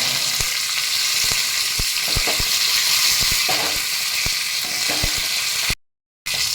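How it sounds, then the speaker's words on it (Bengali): Cumin, mustard seeds and curry leaves sizzle in hot refined oil, a steady loud frying hiss with sharp crackling pops scattered throughout, ending in a brief dropout. "একটু জিরে দিয়ে দিলাম ফোড়নে, কতগুলো সর্ষে দিয়ে দিলাম, কারি পাতা দিয়ে দিলাম"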